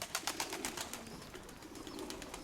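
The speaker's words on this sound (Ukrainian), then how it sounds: "перевів уже дорослі всі голубенята, всі самі їдять" Pigeons and young squabs coo softly nearby in a rhythmic series of throaty pulses, fairly faint and steady, with no voices.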